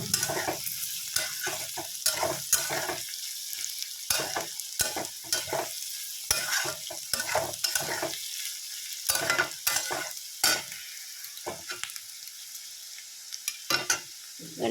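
Vegetables for fried rice sizzle in hot oil in a pan while a spatula stirs and scrapes in repeated quick strokes, close and clear, with no talking.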